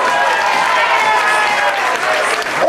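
Audience applauding in a 1997 discotheque hall in Bignan during a concert and Miss Élégance announcement, a dense, loud, steady wash of clapping with crowd noise throughout.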